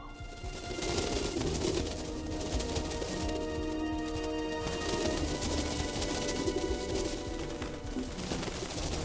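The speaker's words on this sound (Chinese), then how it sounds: "这些全都是信鸽。" A flock of carrier pigeons kept at a medicine-herb manor coo steadily in a low, continuous murmur with no talk over it, and scattered rustling and flutter rise throughout.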